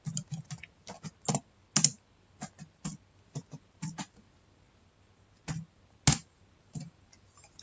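Computer keyboard keys are tapped in short irregular bursts of sharp, close clicks, with gaps between groups of keystrokes and a quiet background.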